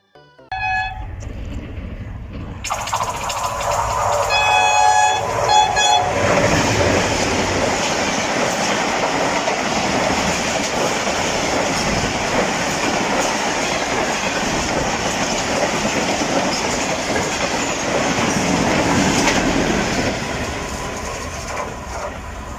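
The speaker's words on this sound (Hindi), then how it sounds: "खाने के दौरान ही 16 डाउन कराची एक्सप्रेस आ गई" The 16 Down Karachi Express passes Meting railway station, a loud sustained rumble and clatter of wagons over the rails close by, with horn toots near the start, running steadily almost to the end.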